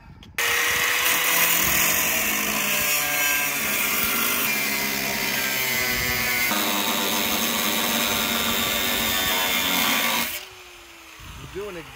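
A grinder cuts into a truck fender's sheet metal, a loud sustained whine with shifting tonal harmonics for about ten seconds before cutting out abruptly, leaving quiet handling noise.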